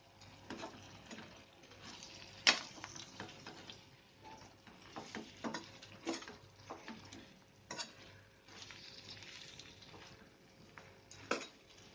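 Bitter gourd pieces frying in a pan, a quiet sizzle under intermittent scraping and clinks of a spoon stirring, close but faint, with no talking.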